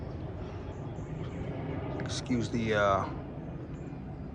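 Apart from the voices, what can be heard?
airplane flying overhead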